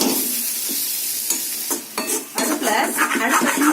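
Diced potatoes for a spicy Tamil potato kara curry are stirred and sautéed in oil in a heavy pan over low heat: close, steady sizzling under repeated scraping spoon strokes, with no talking.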